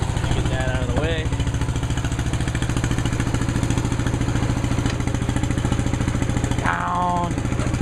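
A 1973 MW Gilson garden tractor engine idles steadily with a close, even mechanical chug throughout, while voices talk over it in short bursts.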